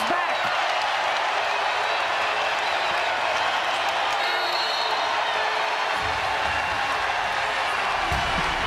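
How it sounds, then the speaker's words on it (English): Basketball arena crowd during an NC State women's game against Louisville at Reynolds Coliseum, a broad steady roar of cheering and applause throughout, swelling slightly near the end. "and now the crowd is back"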